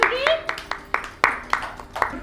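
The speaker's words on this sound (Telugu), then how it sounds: "మీరందరూ క్లాప్ చేయండి పూనంకి" An audience claps in steady, quick bursts for a young girl who has just sung at a school film festival event, the individual claps sharp and evenly spaced, with a voice heard alongside.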